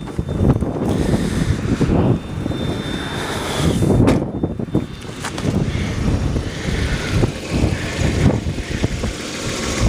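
Strong, steady wind buffeting the microphone with a constant roar and rumble, loud and continuous throughout.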